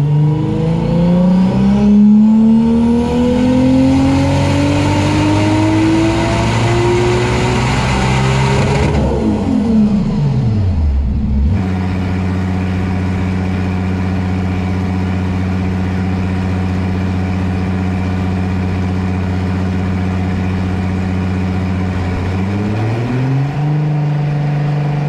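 A VW Golf engine on a hub dynamometer revs hard and climbs steadily under load, then drops sharply and settles into a steady loud drone before rising again at the end, close and alone.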